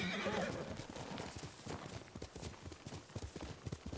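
A horse in the video game Ghost of Tsushima trots in a quick, even clip-clop of hooves, opening with a brief neigh, with the hoofbeats close and clear and no talking over them.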